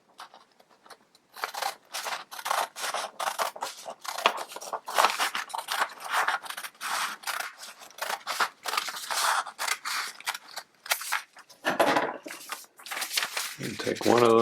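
Scissors snip through a folded sheet of paper in a quick series of crisp, close cuts, steady and rhythmic, followed by a brief papery crinkle and rustle as the pieces are handled.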